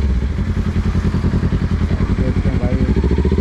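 A motorcycle engine runs loudly and close, a pulsing mid-range idle with slight throttle variation, while people talk over it on a roadside.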